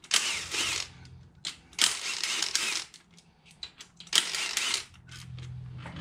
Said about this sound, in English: all you have to do is pull these bolts off